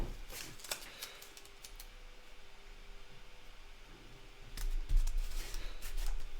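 Quick snipping of scissors in two short bursts, close by, cutting a stencil, with quiet rustling and handling noise in between.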